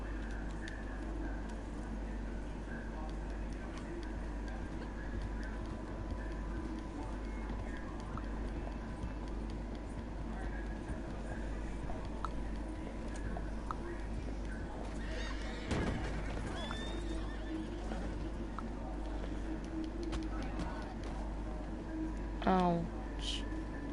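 Horses in Red Dead Redemption 2 neigh and whinny over a steady drone of ambient game noise, with scattered hoof clip-clops and a short rising whinny near the end.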